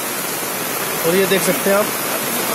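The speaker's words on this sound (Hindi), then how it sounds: "ये देखिए कितना पानी आ रहा है।" Flood water from heavy rain rushes down a hillside channel near a temple in Brahmapuri, a steady broadband roar that continues throughout while someone talks over it.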